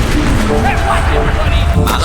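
A loud explosion booms in the WWII shooter Enlisted during a tank battle, a dense rumbling blast filling the short moment.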